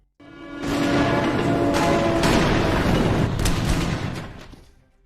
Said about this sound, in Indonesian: Dan tembakan pun dilepaskan sebagai penutup dari kasus kejahatan Phantom.